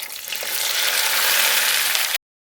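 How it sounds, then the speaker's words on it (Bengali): Okra frying in a little hot oil in an open pan gives a loud, steady, hissing sizzle close by, broad and continuous, then cutting off abruptly. "যেহেতু ভেন্ডি ভাজা করব"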